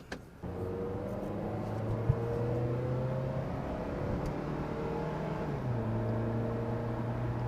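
A Mazda 6 engine hums steadily at high RPM from inside the cabin, with rising and falling tonal whine as the automatic gearbox shifts. There is a soft click at the start, and no one speaks.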